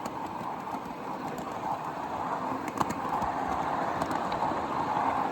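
A miniature train rumbles along the track with a steady, broad roar, gradually growing louder, with occasional clanks and rattles; no voices.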